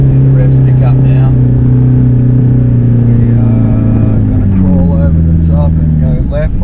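A 4WD engine revs hard through soft sand on a Simpson Desert crossing, loud and steady throughout, its pitch dipping then climbing as the gears change, with someone talking over it.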